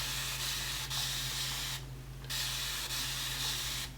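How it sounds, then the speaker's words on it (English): A spray bottle filled with plain water mists onto soaking-wet curly hair in quick repeated bursts, close and steady, with a short pause midway before the spraying resumes. "Anytime you see me spraying this bottle, all I have in here is water."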